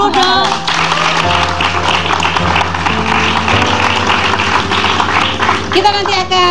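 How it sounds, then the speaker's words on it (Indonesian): A studio audience applauds during the Indonesian TV talk show Rumpi No Secret. The applause is steady, dense and loud for several seconds, with a music bed and voices running underneath. "tepuk tangan dulu dong"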